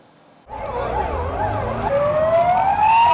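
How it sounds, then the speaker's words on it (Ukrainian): Sirens start abruptly and wail loudly, several overlapping with rising and falling tones, then a steady high tone joins as vehicles pass close by. "Сирени, пожежні машини, швидка допомога"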